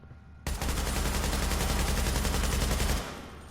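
A single loud, sustained burst of rapid automatic gunfire fired at a target dummy in Tom Clancy's The Division lasts about two and a half seconds, then cuts off abruptly.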